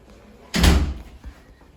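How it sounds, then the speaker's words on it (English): A small wooden cupboard door in a resort room closes with a single solid thud, loud and close, followed by a faint click. "Let me close the door."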